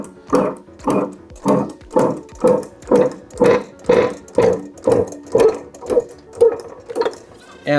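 A press works on a Vemag HP-E Series infeed scroll pinion drive motor assembly, giving about a dozen evenly spaced mechanical thumps in a steady pumping rhythm, close and loud with no talk.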